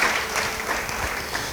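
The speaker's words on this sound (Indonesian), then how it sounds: "Beri tepuk tangan bagi dia" Church congregation breaks into applause, a dense, sustained patter of clapping that fills the room briefly at full volume with no talk over it.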